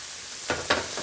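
Langoustines tipped into a hot, nearly dry pan with peas set off two quick sizzling bursts, then a low hiss of frying.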